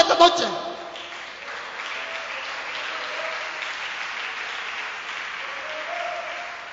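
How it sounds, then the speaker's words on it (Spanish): Church congregation applauding during an evangelical service, a brief louder sound at the start followed by steady, moderately distant clapping and crowd noise with some voices mixed in. "¡Dele aplauso, Señor, esta noche!"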